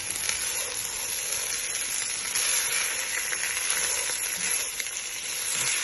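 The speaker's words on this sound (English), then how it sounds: "Fried rice, so we're toasting it. This is how we're frying it." Rice toasting and frying in a hot pan for fried rice, a steady dense sizzle and crackle that holds evenly close up throughout, with no talking.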